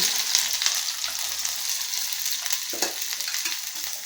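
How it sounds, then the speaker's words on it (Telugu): Okra sizzles and crackles steadily in oil in a small kadai, a continuous close frying hiss with a few scraping stirs and no voices. "ఇవి కూడా అందులోకి వేసుకొని వేయించుకుందాము"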